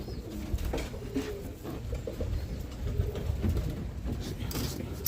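A Mason roller pigeon cock coos softly in low, repeated murmurs against a steady background hum, with no voices over it.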